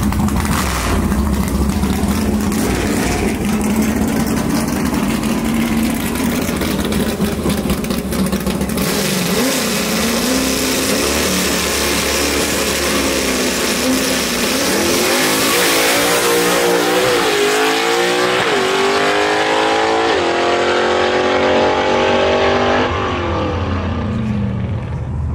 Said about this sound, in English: Beautiful little Falcon right here, mechanically fuel injected.